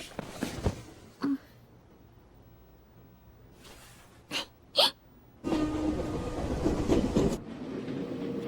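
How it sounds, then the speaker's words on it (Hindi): A train runs on rails with a low rumble that comes in uneven bursts, first brief thuds and then a louder, sustained stretch near the end, with no talking. "जाहिर है कि हम एंड में एक ही ट्रेन में आ गए।"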